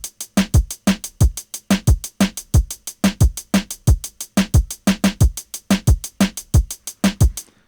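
Reggaeton drum beat programmed in Pro Tools, a steady syncopated loop of punchy kick and snare hits repeating evenly for several bars, loud and alone with no voices.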